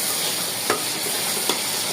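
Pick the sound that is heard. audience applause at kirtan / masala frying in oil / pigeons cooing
masala frying in oil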